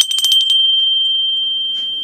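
A small apple-shaped collectible bell is struck several times in quick succession, then one bright, sustained ringing tone lingers and slowly fades, close and clear with no voices.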